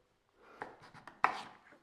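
Knife slicing through beetroot on a board, a few soft quiet cuts with one sharper chop near the end, close and alone.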